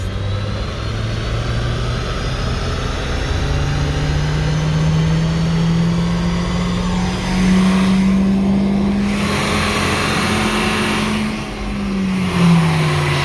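A tuned Nissan Juke 1.6 turbo engine runs loud and steady on a dyno, its tone climbing slowly through a long pull, easing back, then rising again near the end.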